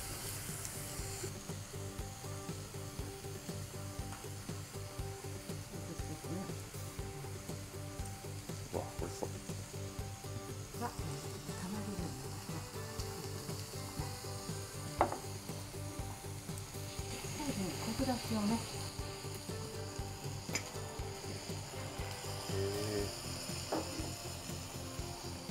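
Slices of Matsusaka beef sizzle in a pan for sukiyaki at a long-established restaurant. A steady, soft frying hiss runs throughout, with occasional clinks and scrapes of utensils and faint background voices.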